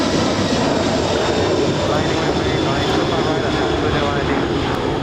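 A heavy Boeing 747 taking off at LAX, a loud sustained broadband jet roar filling the whole clip at steady level, with faint radio chatter underneath.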